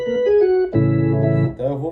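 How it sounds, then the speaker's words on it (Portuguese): Organ tone played on a keyboard synthesizer, sustained harmonic notes shifting pitch across a short phrase, loud and close with no talking. "Isso é um som de órgão."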